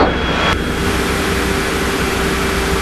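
A Grumman Tiger light aircraft on landing approach, its engine giving a steady, loud, close droning hum with wind rush throughout, heard from inside the cockpit.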